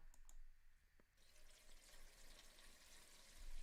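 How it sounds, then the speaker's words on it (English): Water gushes from a bathroom sink in the video game Remember 11, a soft, continuous running-tap hiss, quiet and steady after a few faint drips and clicks. "Water is gushing from the sink as she stares at the mirror."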